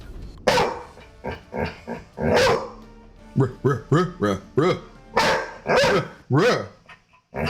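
A dog barks repeatedly and loudly nearby in quick, uneven bursts, with some growly yaps mixed in.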